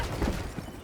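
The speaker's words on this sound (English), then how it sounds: "there's a mortar somewhere" Distant mortar fire in the shooter game Helldivers 2, a short burst of dull, rumbling booms and blasts that merge into a continuous low roar with no clear separate shots.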